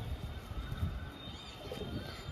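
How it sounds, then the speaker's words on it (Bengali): A black Kaldum pigeon coos in low, soft, continuous murmurs at close range, with faint chirps over a steady background. "খুব সুন্দর কালদুম পায়রা"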